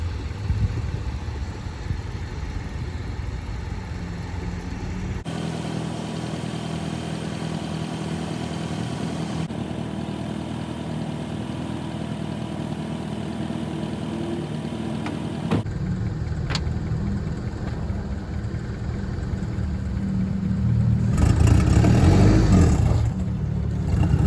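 A turbocharged Honda Prelude engine idles steadily and then revs up near the end, with the tone shifting between sections and no voices over it.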